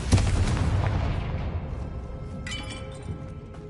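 Confringo blasting spell in the Hogwarts Legacy video game exploding with a sharp, loud boom, followed by a decaying rumble and scattered crackling debris.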